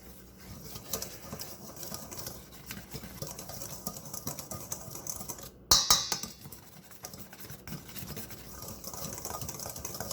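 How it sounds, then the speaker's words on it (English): Garlic powder and sugar are whisked into a dry biscuit mix for garlic cheddar jalapeño biscuits, making a fast, scratchy brushing rhythm up close with a sharp knock partway through. "We're going to use some garlic powder, some sugar, and we're going to give that a whisk."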